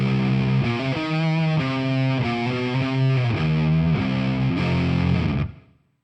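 A heavily distorted electric guitar plays chugging riffs and chords through a Laney AOR amp with no pedals, loud and close, then rings out and fades at the end.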